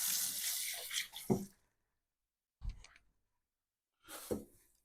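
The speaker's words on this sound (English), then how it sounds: "Wash our hands." Hands washed under a running kitchen tap while making Neapolitan margherita pizza, heard as a short burst of splashing water followed by two brief separate splashes, close and fairly quiet with no talking.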